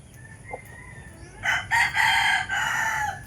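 An Indio Gigante rooster crows loudly and close by in one long, broken call, with a faint cluck just before it on a farm.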